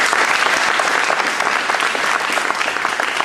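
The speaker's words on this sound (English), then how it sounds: "Give a round of applause." Dense, steady applause from an audience at a Seabee training event, a continuous wash of many hands clapping loudly and close without a break.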